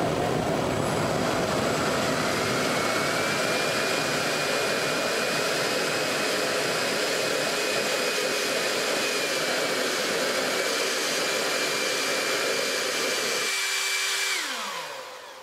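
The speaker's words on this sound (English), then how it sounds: "now I'm going to test it with the afterburner going" An electric ducted fan with an afterburner effect runs at a steady, loud, close whine, holding one pitch for about fourteen seconds before spooling down and cutting off near the end.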